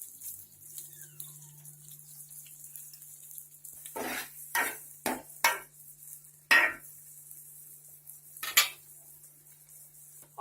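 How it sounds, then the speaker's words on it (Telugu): Chopped onions, with green chillies already added, are fried in a pan for a small fish curry, a faint low sizzle under a steady hum, broken by several sharp spoon scrapes and clanks against the pan. "ఆనియన్స్ని లైట్ బ్రౌన్ కలర్ వచ్చే వరకు వేయించుకోవాలి."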